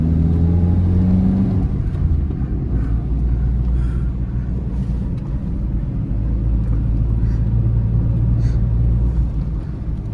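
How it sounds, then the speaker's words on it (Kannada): Steady loud engine drone of a car climbing the Charmadi Ghat mountain road in the Western Ghats, a continuous low rumble with shifting pitch as it works uphill, heard from inside. "ಇಂಜಿನ್ ಪವರ್ ಇಂಜಿನ್ ಸೌಂಡ್ ಕೇಳಿ"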